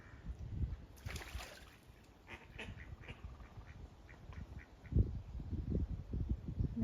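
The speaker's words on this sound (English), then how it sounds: "the ducks came." Ducks quack repeatedly in a backyard garden near a pool in April, a loose series of nasal calls coming in bursts at moderate distance over faint outdoor background.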